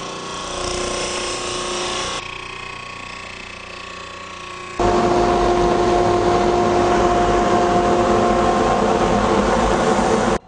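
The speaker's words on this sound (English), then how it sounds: "You only need a piece 2 1/4 inches long to send it through the sander." A Jet 16-32 drum sander feeds a thin wood piece along its conveyor. A steady machine hum runs throughout and jumps to a louder, denser roar partway through as the wood engages the drum. No talking.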